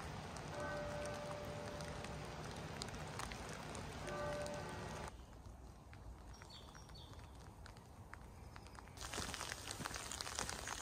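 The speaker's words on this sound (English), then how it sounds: "It has actually started hailing, which is not ideal." Hail falling outdoors on a weekend in Durham, a dense continuous patter and rattle of hailstones that drops quieter midway and then picks up again, heard alone without talk.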